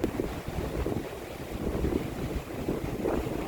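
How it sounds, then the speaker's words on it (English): Strong wind gusting across a beach on the tropical Queensland coast near the Daintree rainforest, a steady loud roar buffeting the microphone with surf rumbling underneath, no voices. "It's very windy."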